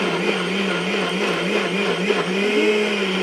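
A blender whirs steadily and loudly at close range, mixing an orange creamsicle protein shake with a continuous motor drone and slight pitch wobble, no speech.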